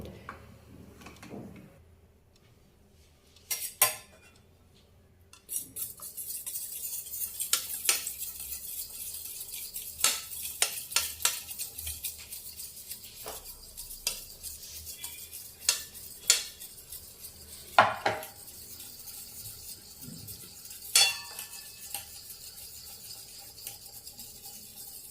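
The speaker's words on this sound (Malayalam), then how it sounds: "2 മുട്ടയുടെ വെള്ളയും മഞ്ഞയും മാറ്റിയിട്ട് രണ്ട് പാത്രത്തിൽ തന്നെ എടുത്ത് നമുക്കിതിനെ മിക്സ് ചെയ്യാം" Separated eggs are whisked in a bowl for butter cake batter, giving sporadic close clinks and scrapes of a utensil against the bowl, with short quiet gaps between bursts.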